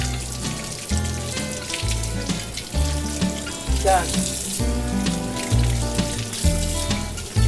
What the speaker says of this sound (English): They just literally, when it's too hot, just run under a little water